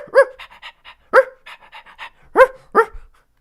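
A person imitates a dog barking, giving four loud, voiced bark-like yelps spaced about a second apart, with softer breathy panting sounds between them, close and alone.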